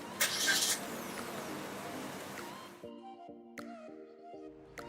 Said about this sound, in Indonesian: menyalakan mobil dengan menekan pedal rem dan menekan tombol engine start-stop